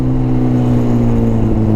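Motorcycle fitted with an SC Project exhaust, taken from an SV650, idling loud and close with a deep steady tone and slight rev swells, no voices.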